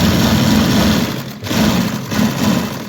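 A sewing machine hums continuously as it stitches a side seam on a one-year-old baby boy's kurta, a loud steady motor drone that dips briefly midway.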